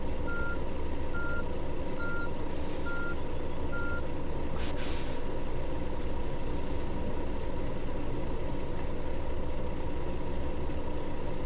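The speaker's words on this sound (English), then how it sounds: "you can hear the buses, the other vehicles, with the window open a little bit" Vehicle reversing beeps pulse in a regular series over a steady engine rumble in the bus-driving game Furnbus Sim, followed by a short hiss like an air brake; no one speaks.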